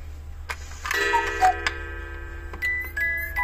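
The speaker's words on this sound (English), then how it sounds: "It's a one-day cuckoo clock with music." A Black Forest one-day cuckoo clock with music ticks steadily and close by, its sharp ticks set against sustained, ringing melodic tones from the music box, with no talking.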